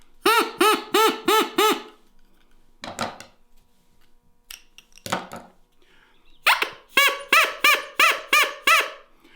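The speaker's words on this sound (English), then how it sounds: "So it makes all different sounds of your duck call." A homemade straw duck call gives repeated bursts of nasal, quacking honks in quick runs, loud and close, with short breathy squawks between the sequences.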